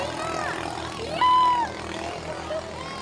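Racing boat engines drone at a boat race, a continuous moderately distant whine and hum with a brief higher tone, while people talk over it.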